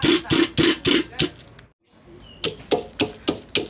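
Garlic and chillies are pounded in a mortar for a Thai stir-fry: quick, steady knocking strikes in a close, loud series, with a short pause before the rhythm resumes.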